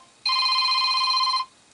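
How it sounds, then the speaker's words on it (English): A single burst of the Samsung Galaxy Nexus Pyxis ringtone, an old-style telephone bell ring, buzzing steadily for about a second before stopping abruptly, clear and alone. "which is just a straight-up ringtone."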